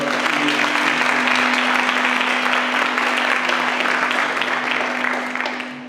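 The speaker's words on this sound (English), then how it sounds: "a round of applause for" An audience at a university literary prize ceremony gives a round of applause, a full, sustained clapping that stays steady over a low electrical hum and tapers slightly at the end.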